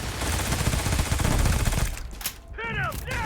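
Bursts of scatter laser weapon fire in the Starfield video game, a dense continuous volley for about two seconds, then a pause and a few sharp zapping chirps, loud and close.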